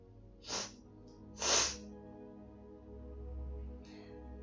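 A woman gives two quick, close sneezes about a second apart, sharp and breathy, followed later by a fainter sniff against a quiet room background.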